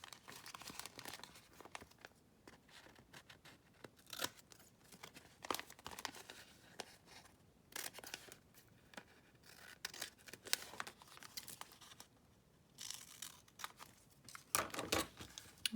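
Scissors snipping and crinkling thin glossy magazine pages while trimming pieces for a handmade envelope, a close, irregular series of cuts and paper rustles with no talk.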